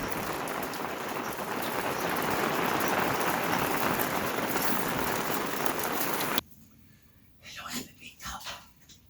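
Steady broadband rain pattering on a porch in a Sequoia National Forest campground, loud and continuous, cutting off abruptly near the end, followed by a few faint scattered sounds.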